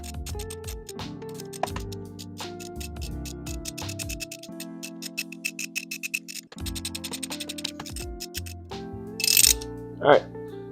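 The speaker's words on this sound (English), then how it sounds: "now I'm gonna go in and remove the spark plugs from the side. So I just have a ratchet, an extension, and then a 5/8 spark plug" A hand ratchet with an extension and 5/8 spark plug socket clicks in quick runs of pawl ticks while spark plugs are removed from a Kia Stinger engine, close and clear, with brief pauses and a few louder scrapes near the end.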